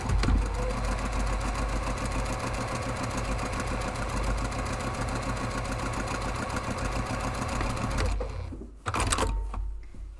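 Sewing machine stitching the seam of a large padded camera bag: a fast, steady mechanical whir and rhythmic needle chatter running for about eight seconds, then a brief stop and a short restart.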